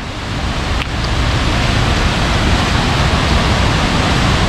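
Hulugan Falls, a waterfall in Luisiana, Laguna, gives a loud, steady, broadband roar of rushing water that stays close and constant, with no voices over it.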